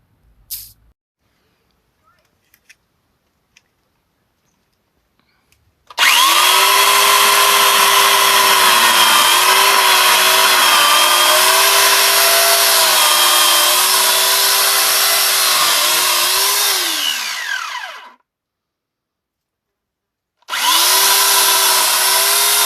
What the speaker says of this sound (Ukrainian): Так працює електропилка Форте.